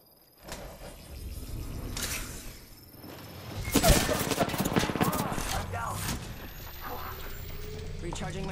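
Video game gunfire crackles in bursts and rapid volleys, with sharp impacts and shattering sounds, mixed with a player talking over the action.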